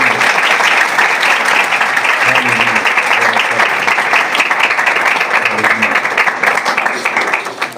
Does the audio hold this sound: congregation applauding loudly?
yes